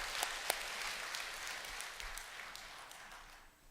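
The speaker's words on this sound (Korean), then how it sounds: "우리 하나님께 다 같이 영광의 박수 한번 돌리시겠습니다" Faint, distant applause from a church congregation after a choir's Christmas hymn, a soft, even patter of many hands that gradually fades out.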